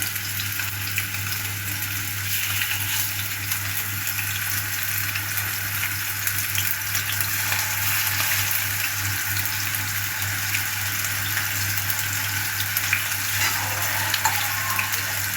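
Chicken pieces frying in a pan for eggplant maqluba, a steady close sizzle and crackle of hot oil running unbroken throughout, with a constant low hum underneath and no talking.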